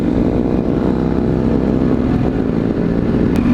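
A police motorcycle engine drones loud and steady throughout, a continuous low rumble with no clear breaks or revving peaks.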